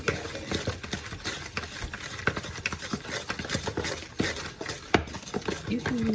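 Banana bread batter with vanilla stirred by hand in a bowl, rapid irregular scraping and clacking strokes close by, with a person talking over it.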